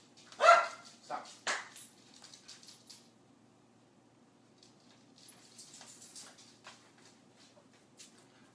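Several house dogs bark at a doorbell: a few sharp, loud barks up close, then scattered softer yips and barks, mixed with some indistinct human voice.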